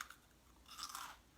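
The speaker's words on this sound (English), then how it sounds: "Okay, listen to this crunch," A bite into a crisp homemade everything bagel chip or praline pretzel, a brief faint crunch close to the mouth followed by soft chewing, with no talking.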